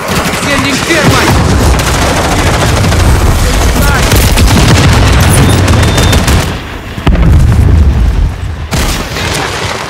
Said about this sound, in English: Friendly cruise missile